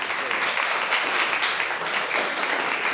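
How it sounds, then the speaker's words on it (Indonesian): A school class of seventh-grade students claps together in a classroom, a dense, loud, continuous burst of many hands with no talking. "Tepuk tangan."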